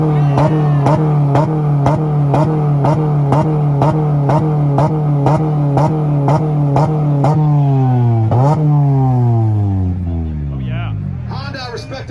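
A Honda car at a Tulsa import rev battle with 2-step launch limiters, its engine held at the limiter in loud, rapid rhythmic bursts, then the revs sweep down and fade, with crowd noise underneath.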